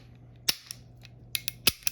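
Beretta M9 pistol slide being racked and its trigger worked, heard as a handful of sharp, close metallic clicks spaced irregularly over a quiet background.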